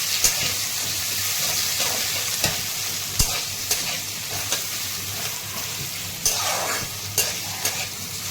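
Sliced onion and ginger sauté in a pan for a masala pulao, giving a steady sizzle and hiss with periodic sharp clicks and scrapes from stirring, close and moderately loud, with no talking.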